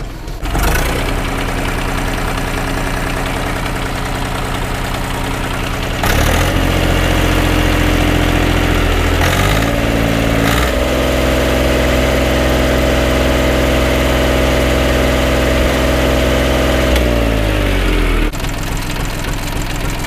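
A tractor's diesel engine, injectors freshly tuned, idles loudly and then is revved in a few sharp bursts before holding a higher steady speed and dropping back, close up with no talking.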